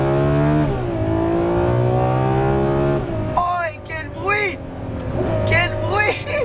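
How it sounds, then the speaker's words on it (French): A high-revving Ferrari 12Cilindri V12 engine climbs through the gears on a country road with a shrill, rising wail, then becomes choppier as a voice speaks over it. "je peux profiter de ce V12"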